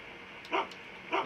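A dog in a gold mining sim game barks twice, about half a second apart. The two short, clear barks sit over a low steady background hum.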